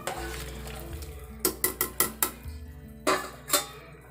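Pepper sev is dropped and stirred into a raw papaya gravy in a metal pan, giving a series of sharp spoon-on-pan taps and scrapes in an irregular rhythm over a low steady hum, close and fairly quiet with no voices.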